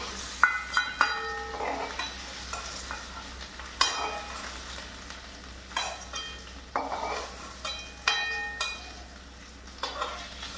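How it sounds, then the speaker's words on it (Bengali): Potatoes stirred and scooped out of hot frying oil in a wok, a steady sizzle broken by repeated sharp clinks and scrapes of the spatula against the metal at an uneven rhythm, close up and without speech. "এরপর আমি আলুগুলো তুলে নিচ্ছি"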